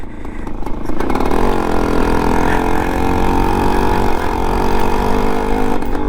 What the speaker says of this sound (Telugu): ఆ 2 స్ట్రోక్ మీద నడుపుతుంటే ఆ మజా వేరు వస్తుంది